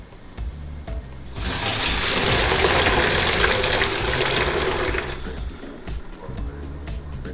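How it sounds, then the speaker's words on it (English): A water and yeast solution pours from a fermentation bucket through a sanitized funnel into a carboy, a steady, fairly loud rush of liquid lasting several seconds, with quieter handling sounds before and after. "we're gonna transfer the water yeast solution from our fermentation bucket"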